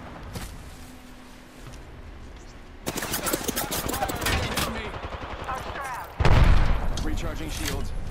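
Rapid bursts of automatic gunfire ring out during an Apex Legends match, several volleys with a heavy close burst near the end, over game effects and a character voice.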